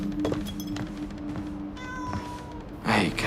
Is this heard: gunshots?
no